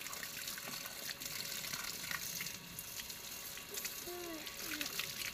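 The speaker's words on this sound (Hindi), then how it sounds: "हाँ पानी चलने दो" Water running steadily from a tap into a garden while plants are watered, a continuous faint gushing hiss with soft household sounds and a child's brief vocal sounds near the end.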